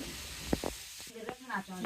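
Radish frying in a pan on a home stove gives a faint, steady sizzle throughout, with a brief soft voice near the end.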